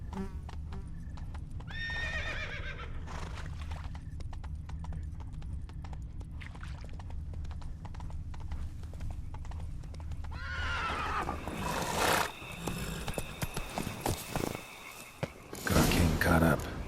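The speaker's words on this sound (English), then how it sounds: "Horses must have gotten spooked." Spooked horses in The Witcher 3, hooves clip-clopping steadily with several loud neighs and whinnies, growing busier and louder toward the end.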